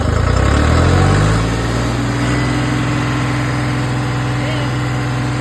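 Farm tractor with a shredder attached idling, a steady low diesel rumble that drops slightly in pitch after a second and then holds constant, close and loud.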